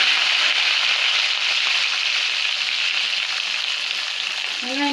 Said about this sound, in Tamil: இப்போ வந்து கருவேப்பிலை போட்டுக்கலாம்